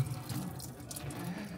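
Coolant water drains from a Ford EcoBoost engine's water pump into a bucket in a workshop, a steady, close rushing splash with no voices.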